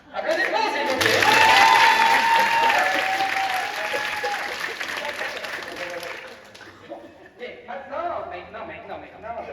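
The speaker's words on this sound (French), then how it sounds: "Applaudissements" Audience applause at a hypnosis stage show, a dense, loud burst of clapping that swells quickly, holds for several seconds, then thins out into scattered claps.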